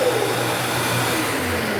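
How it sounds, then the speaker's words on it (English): A shop vacuum connected to a miter saw station in a woodworking shop runs with a steady, loud whooshing drone, its pitch sliding briefly at the start as it comes up to speed, then holding constant. "So as I turn it on, the vacuum will kick on."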